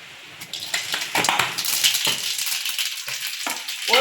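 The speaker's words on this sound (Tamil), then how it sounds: "கடுகு உளுத்தம் பருப்பு போட்டுக்கலாம்." Mustard seeds and urad dal crackle and pop in hot oil for tempering, a dense close sizzle with sharp spattering bursts throughout.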